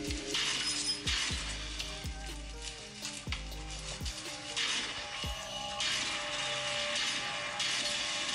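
Gun blasting zombies in a mobile shooter game played on an iPhone 12: repeated sharp booming shots roughly once a second over a dense, crackling wash of game noise and effects, with no talking.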